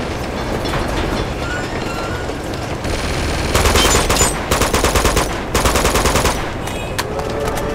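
Rapid minigun fire in Uncharted 2, several rattling bursts separated by short gaps over a rumbling game background, fairly loud and close.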